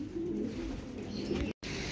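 Low, continuous racing pigeon cooing close by, steady throughout with a brief dropout near the end.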